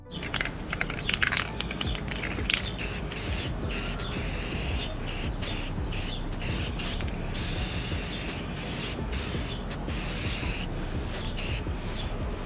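Spray painting a truck grill with white paint, a steady close hiss of spray running for the whole stretch, broken by short gaps and light mechanical clicks.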